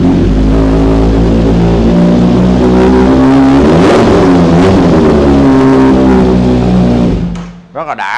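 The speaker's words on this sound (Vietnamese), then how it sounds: "Đây cho anh em nghe tiếng bô SC." A Kawasaki Z900 motorcycle with an SC aftermarket exhaust revs hard and loud, climbing to a peak midway, holding a rich droning note, then dropping off near the end.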